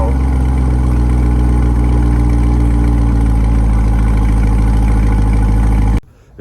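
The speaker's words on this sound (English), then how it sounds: "Last time you hear the stock exhaust. This is a cold start." Stock exhaust of a Chevrolet C8 Corvette idling after a cold start on a 57-degree day in Chicago: a loud, steady low rumble held for about six seconds before cutting off abruptly.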